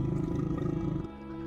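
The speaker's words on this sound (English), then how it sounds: "Its roars turned to growls," A beast roaring as a dramatized audiobook sound effect, a deep, loud sustained roar that drops abruptly into a lower rumbling growl near the end.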